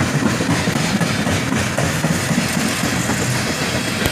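CSX freight train Q556 with covered hoppers, some of them Chicago Northwestern cars, rolling past close by in a steady loud rumble with rhythmic clickety-clack from the wheels.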